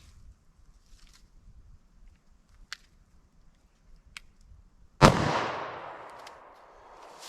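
One loud, close .40 S&W pistol shot fired into four layers of denim, clear ballistic gel and quarter-inch MDF, bursting suddenly from near-silence and then ringing and decaying over the next couple of seconds.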